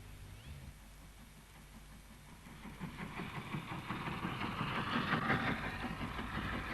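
A train hauled by an RSH locomotive passes on the East Lancs Railway, the rumble and clatter of wheels building from a quiet idle to a louder, rhythmic rolling sound as it draws closer.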